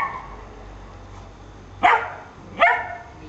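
A dog in obedience training gives two sharp, loud barks about a second apart over a quiet background.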